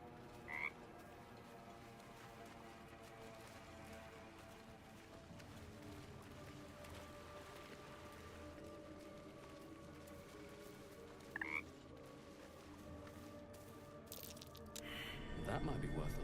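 A frog in the video game Baldur's Gate 3 croaks in low, repeated calls over a quiet, watery ambient background with soft drips, with a couple of brief higher chirps and a louder burst of sound at the end.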